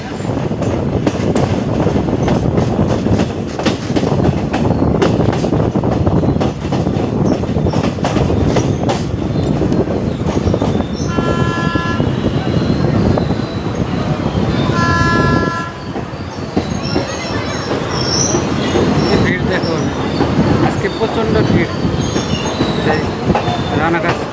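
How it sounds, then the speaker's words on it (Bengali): A passenger train pulls into Ranaghat station, loud and close: a continuous rumble of wheels on rails with clattering joints, brief squealing tones from the wheels, and steady roaring noise throughout. "শান্তিপুরে যাবে এই ট্রেন শান্তিপুরে যাবে রানাঘাট স্টেশনে ঢুকলো"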